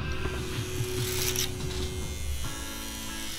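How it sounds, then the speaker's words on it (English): Electric hair clippers running during a clipper-over-comb men's haircut: a steady close buzz with a droning hum that shifts slightly in pitch as the blades move through hair, with no talking. "I'm going to do clipper over comb"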